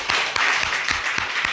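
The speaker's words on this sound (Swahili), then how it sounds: "Patia Bwana sadaka mzuri ya makofi." A church congregation claps together in a dense, loud, steady burst of applause with a rhythmic pulse of stronger claps.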